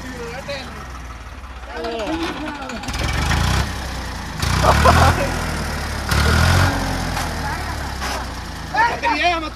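Tractor stuck while offroading revs in repeated heavy bursts between idle stretches, its engine surging loudly several times while people talk nearby.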